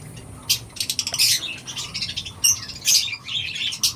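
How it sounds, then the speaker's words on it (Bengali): Budgerigars and their chicks in breeding boxes give bursts of shrill chirps and squawks, with a brief flutter of wings, close by and with no talking. "এইখানে পাখির বাচ্চা আছে দেখতে পাচ্ছ দুটো বাচ্চা আছে"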